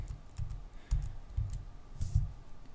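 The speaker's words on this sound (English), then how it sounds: "You type sudo and the command that you want to run." Keys clatter on a computer keyboard as a sudo command is typed at a Linux prompt: close, irregular bursts of clicks with brief pauses and no voices.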